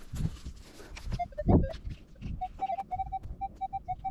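A Minelab Equinox 600 metal detector sounds a series of short, steady signal beeps in quick irregular succession while searching for treasure, with close rustling and handling noise underneath.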